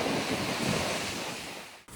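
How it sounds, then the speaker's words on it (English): Strong wind buffets the microphone outdoors in a loud, rumbling roar with gusty swells, then cuts off abruptly near the end. "So windy!"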